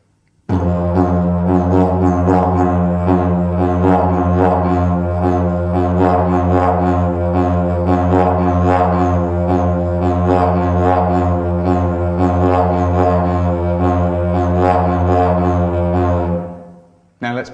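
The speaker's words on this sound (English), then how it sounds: "a diaphragm or belly push, like followed by a cheek slap at the same time" A didgeridoo drone played in a steady rhythm of diaphragm belly pushes with simultaneous cheek slaps, loud and close, with pulsing accents over a continuous low tone, alone for about sixteen seconds before stopping.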